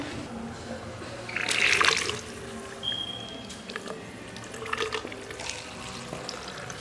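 Mineral spring water runs from a public fountain in the spa town of Szczawno-Zdrój, Poland, a steady close trickle and splash that swells briefly midway, with faint background sounds.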